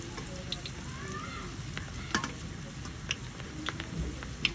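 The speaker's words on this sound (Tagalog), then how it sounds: "Prito natin guys." Steady crackling sizzle of kangkong (water spinach) chips frying in hot oil, with occasional sharp pops and light stirring clicks, close up and continuous.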